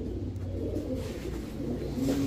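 Low, repeated cooing of pigeons nearby at a pigeon market, a soft throaty rumble continuing throughout without speech.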